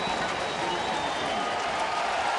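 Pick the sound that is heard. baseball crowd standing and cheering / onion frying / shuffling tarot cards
baseball crowd standing and cheering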